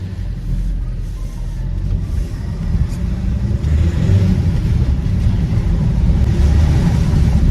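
A repaired car engine, previously suspected of a boost leak, revs steadily and loudly, a continuous low rumble with rising intensity, heard from inside or near the car without talk.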